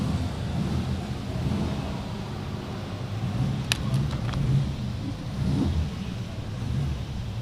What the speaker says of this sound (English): That sounds lively, doesn't it? Sounds lively, this one, the MGB GT.